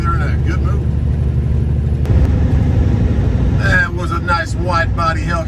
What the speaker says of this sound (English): wide body Hellcat just went by me. A white one. He downshifted, sounded pretty good